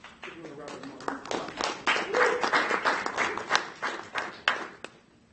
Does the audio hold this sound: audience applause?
yes